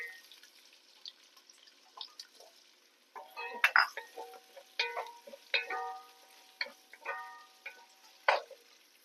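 Paneer frying in a pan, with scattered crackles, pops and soft spatters over a quiet background, some louder bursts coming in irregular clusters and no talking.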